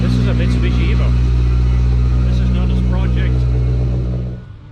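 A Mitsubishi Evo with cams and a titanium exhaust runs at a steady, deep, close idle with strong low rumbling tones, and voices talk over it before the engine sound fades at the end.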